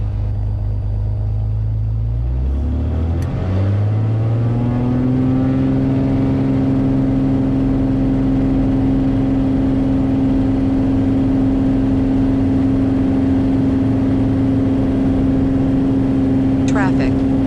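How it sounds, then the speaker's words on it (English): Beechcraft Bonanza piston engine running up for a takeoff roll on runway 17 at Portland, a steady loud drone whose pitch rises and settles into a sustained roar, with voices talking over it inside the cabin. "Bonanza taking the active runway 17"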